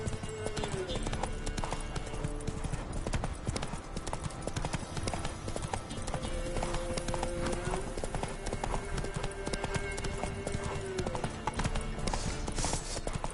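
In The Witcher 3, the horse Roach gallops in a fast, steady stream of hoofbeats that runs for the whole stretch, with game voices and sounds layered on top.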